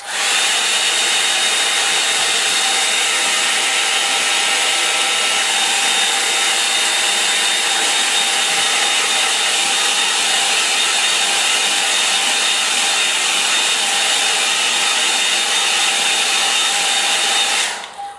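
A hair dryer runs steadily and loudly for the whole stretch, drying a line and wash painting, a constant close whirring hum with no breaks until it cuts off at the very end.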